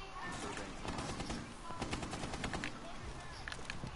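Rapid automatic gunfire in a Tom Clancy's ranked shooter match, dense bursts of shots rattling continuously at close range with a few sharper cracks, busy game sound throughout.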